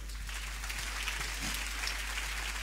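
A church congregation claps for Nicole, a steady wash of applause from many hands in a large room, with a low hum beneath it.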